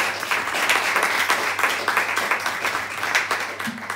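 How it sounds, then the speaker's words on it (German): Steady applause from a talk audience, many hands clapping densely and continuously at close range with no speech over it. "Dafür brauchen wir einen Applaus."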